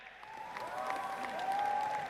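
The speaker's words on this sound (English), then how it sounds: "A big round of applause to them." Audience applause at the ABU Robocon 2023 national robotics contest, a steady patter of clapping heard fairly faint and distant in a large hall, with a tonal hum running through it.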